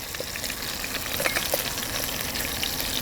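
Short ribs sauté in a 3-quart Instant Pot with a steady, even sizzle that holds at a constant level throughout, close and continuous, with no talking.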